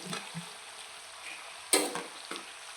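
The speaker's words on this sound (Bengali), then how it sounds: "এখন আমরা দিয়ে দেবো ভেজে রাখা আলুগুলো" Fried potatoes are tipped into a pan of chicken curry and stirred. A soft background sizzle flares into two sharp bursts of frying as the potatoes hit the hot oil, with light scraping in between.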